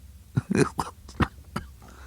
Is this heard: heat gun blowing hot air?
no